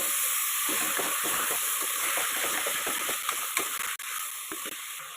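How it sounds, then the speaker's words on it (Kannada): Soaked toor dal frying in hot oil for radish sambar, a steady close sizzle and hiss with light stirring scrapes throughout, no voices. "ಇವಾಗ ಇದಕ್ಕೆ ತೊಗರಿಬೇಳೆ ನೆನೆಸಿರೋ ಬೇಳೆ ಇದು ಹಾಕಿ ನೀಟಾಗಿ ಒಂದು ಎರಡು ನಿಮಿಷ ಆಯಿಲಲ್ಲಿ ನೀಟಾಗಿ ಫ್ರೈ ಆಗೋ ಥರ ಬಾಡಿಸ್ಬೇಕು"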